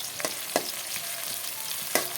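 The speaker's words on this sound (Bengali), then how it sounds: "কাঁচা পেঁয়াজ সব কিছু দিয়ে এখন পেঁয়াজটাকে লাল করে ভেজে নেব।" Raw onions fry in a pan with a steady bright sizzle, punctuated by three or four quick scraping strokes of a spatula, close and alone with no talk.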